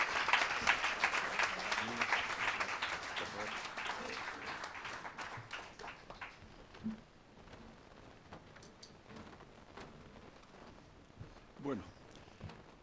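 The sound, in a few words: audience applause for José Menéndez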